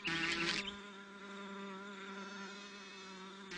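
Asian hornets buzzing in aerial territorial fights, a close tonal wing drone with a brief louder rasping flare at the start, then a steady hum.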